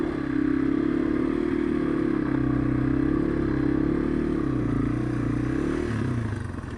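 A Yamaha TW200 motorcycle labours up a snowy hill, its engine holding a loud, steady droning note that wavers slightly and then dips and fades near the end.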